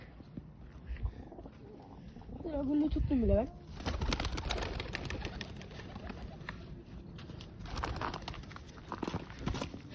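Pigeons give a couple of soft, close cooing calls under a man's speech, with rustling and handling noise from birds being held nearby.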